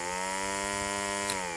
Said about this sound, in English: and that will start the trimmer